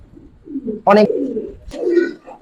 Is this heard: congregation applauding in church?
no